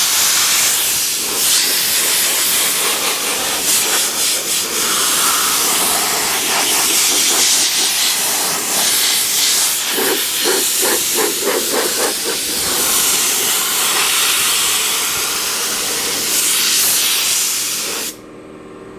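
A pressurized sprayer mists detail liquid during a car wash, giving a loud continuous hiss with brief pulsing bursts near the middle before cutting off sharply at the end.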